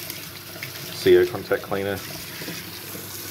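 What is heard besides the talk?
tap water rinsing a mining rig mainboard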